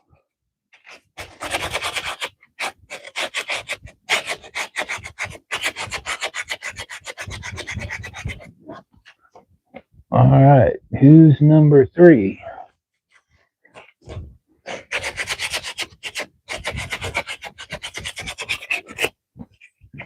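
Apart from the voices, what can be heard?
sanding wooden spoons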